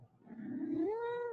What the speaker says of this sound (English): She's purring now.